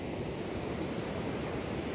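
Ocean waves wash continuously on the Oregon coast, a dense, steady roar of surf mixed with wind buffeting the microphone, with no voices.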